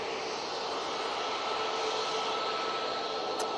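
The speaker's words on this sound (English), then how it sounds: "Ryanair now taking a left down Victor Alpha and making its way down towards us before coming on to 2-3 left." A Ryanair jet taxis at Manchester Airport toward runway 23 left, its engines giving a steady, loud broadband roar that holds evenly throughout with no voices.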